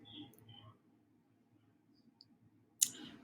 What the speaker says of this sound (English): so I'm going to go ahead and click Schedule Payment.